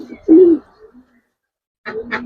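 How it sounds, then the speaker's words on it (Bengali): A domestic pigeon coos in low, throaty bursts close by while being handled, with a pause between calls and faint voices nearby. "এটা দেশি কবুতর"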